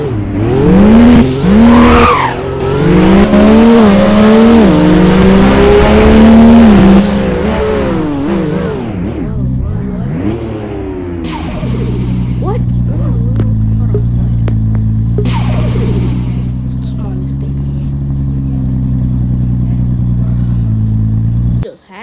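Supra in the Driving Empire video game, its engine revving and tires squealing as it drifts, loud and continuous with pitch sweeps, followed by a steadier engine drone; a voice talks over parts of it.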